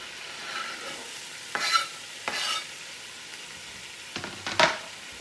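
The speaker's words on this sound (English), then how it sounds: "So I'm going to saute those until the vegetables have started to become tender" Onion, carrots, celery and garlic cut in small pieces sautéing in a pan, with a soft steady sizzle broken by a few brief louder bursts of stirring and scraping, close by and without talk.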